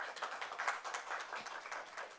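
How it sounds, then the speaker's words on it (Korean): Applause from the audience closing a session of the 2021 Jeju Forum on Korean Peninsula peace, a steady moderate patter of many hands clapping continuously throughout, with no talk over it. "수고하신 좌장 발표자 토론자분께 큰 박수 부탁드리겠습니다"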